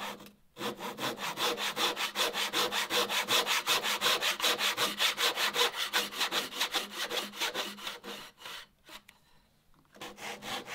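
A hand saw cuts fretboard slots into a wooden banjo fretboard held in an indexing jig, in fast, even back-and-forth rasping strokes that stop briefly near the end before resuming.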